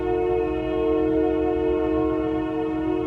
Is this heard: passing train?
yes